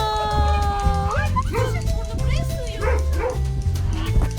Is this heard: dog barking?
yes